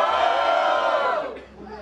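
A large crowd at a Brazilian freestyle rap battle roars and cheers loudly and close, a dense wall of shouting voices that swells and then starts to fade near the end.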